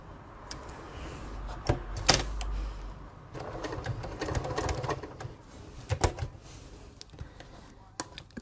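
A sewing machine stitching a padded bag shoulder pad, short bursts of rapid mechanical clicking and whirring separated by pauses and small knocks, fairly quiet and close.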